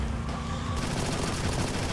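Rapid fusillade of cartoonish shots from a car-mounted pin cannon in the video game Fashion Police Squad, a dense continuous burst of firing filling the whole stretch with steady loudness.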